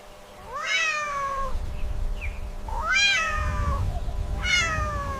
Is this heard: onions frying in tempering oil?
no